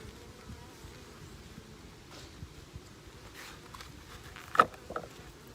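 Honeybees buzz softly and steadily around a small mini mating nuc hive, with a brief louder pass of a bee close by near the end and no talking.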